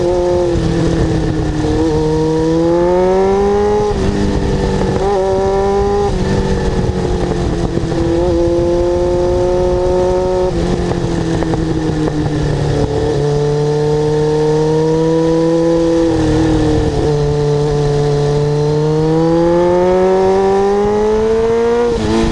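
A 1989 Kawasaki GPX750R motorcycle engine revs up and down repeatedly, loud and close, its pitch climbing and dropping in steady waves without any talking.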